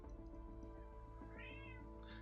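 A pet cat lets out a soft, drawn-out meow near the end, with faint earlier mews, over quiet steady background music.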